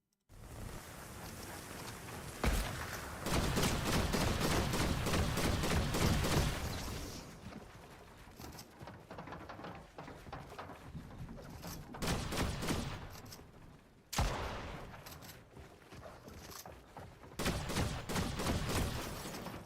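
Sustained gunfire in Fortnite, rapid volleys of shots in long dense bursts separated by brief lulls, loud and close with no talking.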